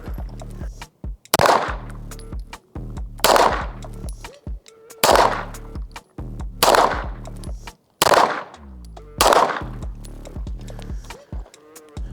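Gunshots from a non-ported Cardinal Arms G2P 2011 pistol fired at a range, about six loud, sharp reports spaced roughly a second and a half apart, with short echoing tails and no talking.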